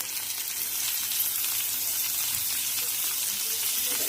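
Tomatoes hitting a pan of reddened onions and sautéed dried fish, giving a loud, dense, even sizzle that holds steady from start to finish.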